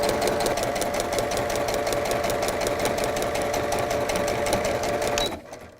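A sewing machine stitches quilt units in steady rapid rhythmic bursts, close and fairly loud, running continuously for several seconds before stopping abruptly.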